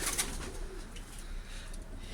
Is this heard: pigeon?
yes